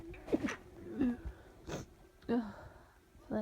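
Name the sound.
sneeze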